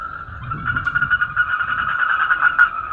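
Toads or frogs call in a continuous, close trilling chorus that holds steady from start to finish, with faint low rumbling underneath.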